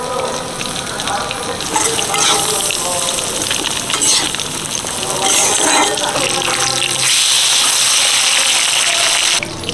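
Potatoes and changuli fish fry steadily in a pan with green chilli and turmeric, a loud continuous sizzle with occasional stirring scrapes and a brief low hum partway through.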